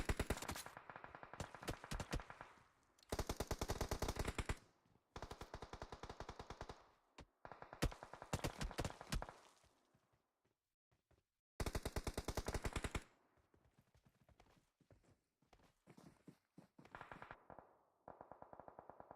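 Video game gunfire in bursts: rapid, steady strings of shots fired in several clusters separated by short silences, loud and close, with no talk over them.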